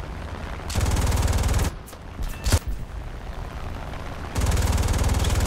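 Machine guns on a He 112 fighter in War Thunder fire in two loud sustained bursts, one at the start and one at the end, separated by a quieter stretch of engine drone and a few scattered hits.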